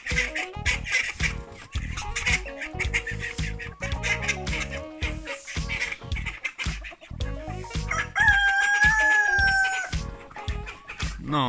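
Several roosters crow repeatedly, overlapping one another amid a busy flock of clucking chickens let out in the morning, with a loud, long crow standing out near the end.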